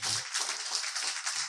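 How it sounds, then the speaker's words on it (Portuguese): Church congregation applauding: dense, continuous clapping from many hands, steady and fairly loud throughout, with no talking over it. "Pode aplaudir o Senhor, meu Senhor."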